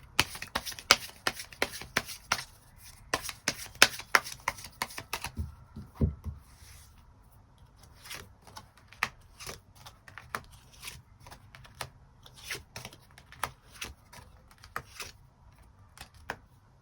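Tarot cards are shuffled in quick, dense riffles, then tapped and laid down in sparser, crisp clicks and slaps at close range.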